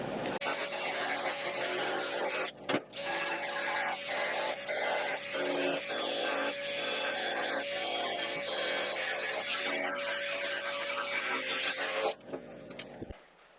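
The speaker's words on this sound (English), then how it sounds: "I just want to clean up this metal one more time, make sure it's nice and clean for welding." A power tool grinds and cleans bare metal on the bedside of a 1960-66 Chevy pickup ahead of welding, a loud, steady abrasive whine running almost without pause, with one brief break early on and then cutting off near the end.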